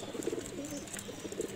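Soft, low cooing of silver Kamagar pigeons, a couple of gentle rolling coos close by, quiet and without any talking.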